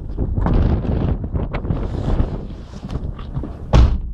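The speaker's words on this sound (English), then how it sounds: "So yeah, quite windy." Strong wind buffets the microphone in rumbling gusts, with a sharp thump near the end.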